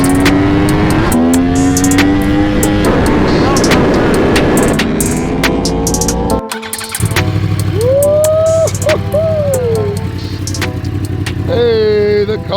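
A Yamaha R1 superbike with Yoshimura exhaust pipes, still cold after starting, roars loudly up close. Sharp revs rise and fall over a rough idle, with a short drop-off midway and more quick blips toward the end.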